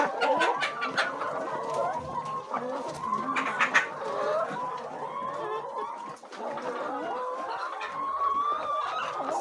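Several chickens cluck and murmur close by in a farm coop, with overlapping bursts of clucking that keep up throughout and a brief dip near the middle.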